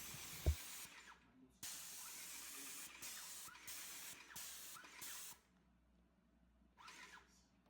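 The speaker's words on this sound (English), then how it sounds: "Spray it on the panel, spray a little bit into a damp microfiber as the panel's still wet, and work it in." 303 SiO2 touchless sealant is sprayed onto a car panel in several bursts of soft, close hissing with short pauses between them, ending after a quiet gap with one last brief spritz.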